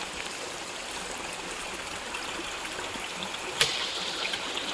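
A natural freshwater stream used for drinking water in Konkan, near Dhutpapeshwar Temple, flowing with a steady, close trickling wash and one brief sharper splash near the end.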